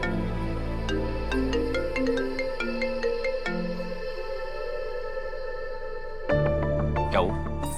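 A melodic phone ringtone plays a repeating electronic tune for several seconds, then a different sound cuts in near the end.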